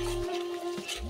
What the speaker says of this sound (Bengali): এরপর দিয়ে দেবো আদা বাটা। খুব ভালোভাবে কিন্তু মশলাকে কষিয়ে নিতে হবে।